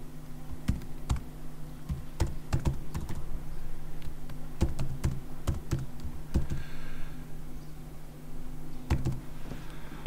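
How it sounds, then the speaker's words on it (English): Someone types a password on a computer keyboard, producing irregular, close clusters of key clicks over a steady low background hum. "I've got to type that password in again"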